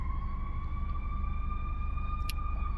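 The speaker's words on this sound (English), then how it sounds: "Sorry for that siren in the background" An emergency vehicle siren wails steadily in the background, a sustained two-tone whine held at a constant pitch over a low rumble for a few seconds, faint and distant with no talking.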